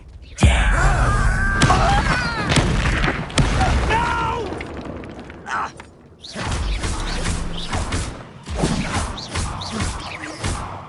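Confringo spell blasts in Hogwarts Legacy, several sharp booming impacts and crashing bursts with whooshing, zinging magical sweeps between them during a duel, loud and close, with a short quiet gap midway before more blasts.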